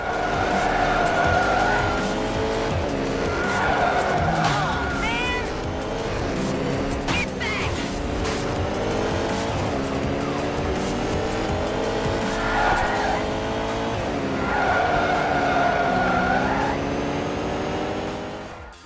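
A car drifting in a Fast and Furious racing game, its engine revving and droning throughout while drawn-out tire squeals rise and fall through repeated slides. The sound is loud and continuous, with brief shifts in engine pitch.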